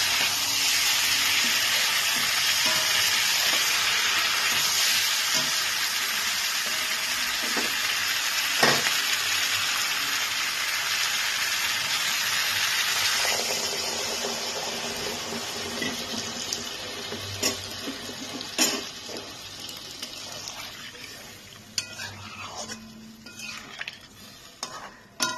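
Water poured from a small bowl into a pan of sizzling pointed gourd curry, a loud steady frying hiss and rush that gradually settles, with scattered clinks of a spoon stirring toward the end, no voices.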